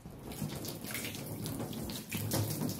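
Water splashed and poured onto a car cover, making a steady soft spattering wash with a brief dip and renewed splash near the end, fairly faint and with no talking.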